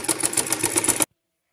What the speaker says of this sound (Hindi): सबसे पहले हम इसके ऊपर सिलाई लगा के तैयार करनी है